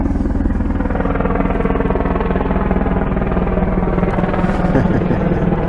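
A Black Hawk helicopter thumps loudly overhead, its rotor beating in a fast steady rhythm over a deep engine roar that fills the whole clip.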